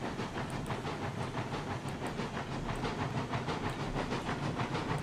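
Locomotive hauling cars in the railroad game RailRoads Online, a steady rumbling run with hissing steam and faint repeated chuffing pulses throughout, no talk.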